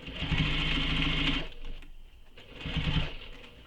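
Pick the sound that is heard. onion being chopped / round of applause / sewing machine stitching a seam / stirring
sewing machine stitching a seam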